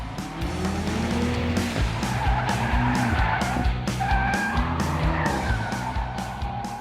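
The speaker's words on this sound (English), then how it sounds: "being drifted around a track in the BMW M5 with professional drivers" BMW M5 drifting around a track with professional drivers, tires skidding and squealing in repeated long bursts over a loud, rising and falling engine roar, close and continuous.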